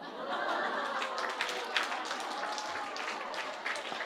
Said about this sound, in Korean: 이게 뭐 박수 칠 일이에요?